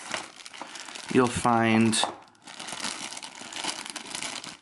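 Crinkly plastic packaging rustles and crackles as a boxed bendable Bowtruckle toy from Fantastic Beasts is opened, close and moderately loud, with someone speaking briefly partway through.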